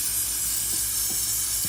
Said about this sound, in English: I'm going to spray the sides.